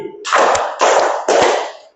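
A sixth-grade class in a classroom claps hands together three times in unison. The claps are loud, evenly spaced and ring out briefly, with no talking.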